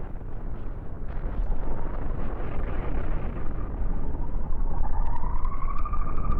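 Railgun fire and explosions aboard a spaceship battle in the video game Cosmoteer: a dense, continuous roaring rumble throughout, joined near the end by a rising whine, with no speech over it.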